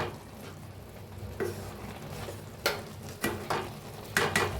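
Carrot halwa being stirred in a pan after a short covered simmer, a quiet background sizzle broken by several distinct scraping strokes of the spoon, each a brief loud swish spaced about a second apart.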